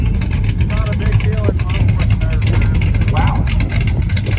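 A drag racing car at Alien City Dragway in Roswell, New Mexico, roaring loud and close with a heavy low rumble that rises in pitch as it accelerates, a voice talking over it.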